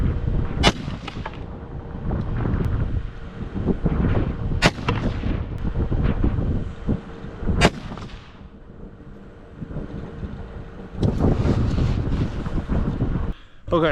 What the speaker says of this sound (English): these were our final shots, I believe, with the 22 ARC